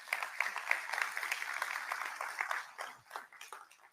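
A conference keynote audience gives a round of applause, with dense, even clapping in a large hall that thins out and fades toward the end.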